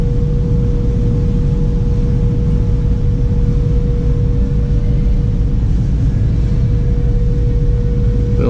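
A 1983 Porsche 911 Cabriolet flat-six idles with an aftermarket Dansk exhaust and heat exchangers, a steady, loud low rumble holding constant throughout with no talk over it.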